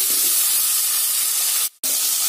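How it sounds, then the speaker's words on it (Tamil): Two chopped country tomatoes sauté in a pan for a horse gram gravy, giving a steady, close, even sizzle with a brief drop near the end. "ரெண்டு நாட்டு தக்காளிய இந்த மாதிரி பொடிய கட் பண்ணி அதையும் சேர்த்து வதக்கிடுங்க"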